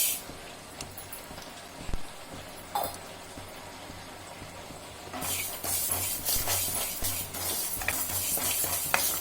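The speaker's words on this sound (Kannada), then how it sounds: "ಲೈಟ್ ಗೋಲ್ಡನ್ ಬ್ರೌನ್ ಬರೋ ತನಕ ಫ್ರೈ ಮಾಡ್ಕೋಬೇಕು" Fenugreek seeds frying in a pan for tomato pickle masala: a few faint clinks and stirs at first, then a steady, fairly loud sizzle for the second half, with no talking.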